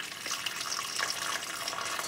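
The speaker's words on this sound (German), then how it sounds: "dann gießen wir das gekochte, heiße Wasser drüber" Hot boiled water is poured over a pork shoulder (Schäufele) in a roasting dish, a steady close splashing pour that runs the whole time without talk.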